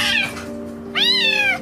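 A trapped kitten meows twice, close and clear: a short cry followed by a longer, drawn-out plaintive meow.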